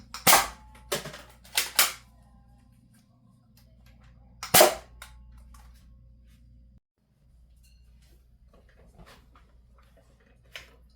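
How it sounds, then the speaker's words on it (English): A foam dart blaster shoots waffle-head darts at a test dummy, giving about five sharp snapping pops: a quick cluster early on and one more a few seconds later, followed by quiet background. "Firing dart zone / X shot / Adventure Force waffle head darts."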